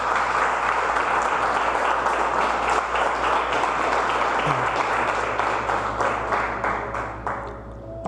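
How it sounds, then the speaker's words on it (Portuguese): A church congregation applauds in gratitude during a sermon, with dense, sustained clapping filling the room for about eight seconds before tapering off slightly at the end. "Vamos dar uma salva de palmas em gratidão ao Senhor"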